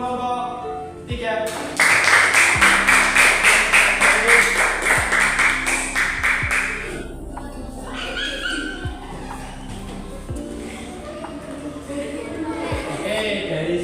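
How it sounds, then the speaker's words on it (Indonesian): A group of people clapping to applaud a presenting student group in a classroom, a dense burst of handclaps lasting several seconds before fading under a murmur of voices. "Tepuk tangan untuk kelompok 3"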